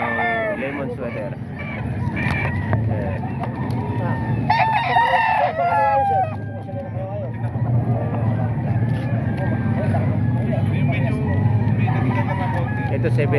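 Roosters crow repeatedly at a busy Calumpit tiangge poultry market, the calls rising loud and near over a steady murmur of crowd noise and background chatter.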